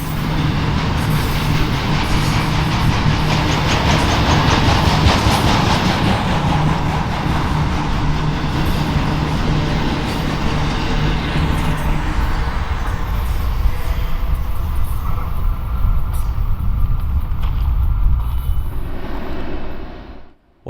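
BNSF westbound and eastbound intermodal freight trains meet in a canyon on a hot July morning, a loud continuous roar of rumbling wheels and rail clatter up close, with a low engine drone early on, fading abruptly at the end.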